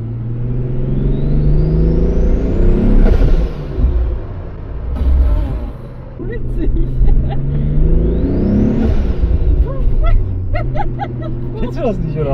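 A VW Golf 4 Cabrio VR6 Turbo with KW coilover suspension revs up twice, its engine note climbing in rising sweeps over a steady rumble, with people talking throughout.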